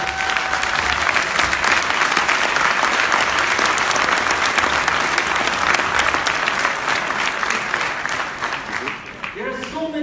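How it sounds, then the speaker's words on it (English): Sustained applause from a workshop audience in Lisbon, dense and steady clapping filling the room for about nine seconds before thinning slightly at the end. "Can you give big round of applause to Mr."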